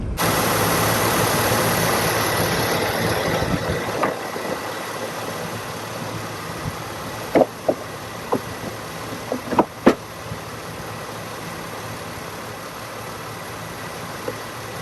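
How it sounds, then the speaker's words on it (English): A Pontiac G6 engine idles steadily while warming up, a constant close mechanical hum with a few brief clicks and knocks breaking through in the middle. "Go ahead and let this idle until she gets up to temp."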